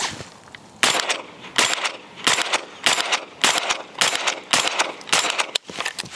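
A suppressed Radical Defense MK1 PDW fires on an outdoor range in a string of sharp, cracking shots, roughly a dozen in quick irregular succession, close and loud with short pauses between bursts.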